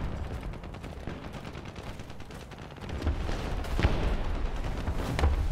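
War Thunder battle din from an April Fools exoskeleton-versus-tanks event: a steady rumble of distant gunfire and rapid shots, with a few heavier thuds toward the end and no voices.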